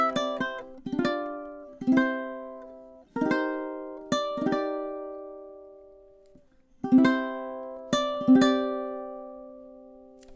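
Ukulele plucking a melody, measures 9 through 13, in short bright strummed and picked phrases with clear attacks and ringing decays separated by brief pauses, close and solo.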